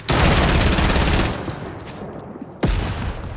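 Fortnite gunfire: a dense, loud burst of rapid shots fills the first second and a half, then a quieter lull before another sharp volley cuts in near the end.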